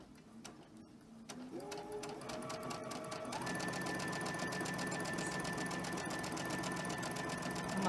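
Sewing machine fitted with an invisible zipper foot stitching fabric at a 2.5 stitch length, starting with a few slow rising whirs, then settling into a fast, even mechanical hum up close.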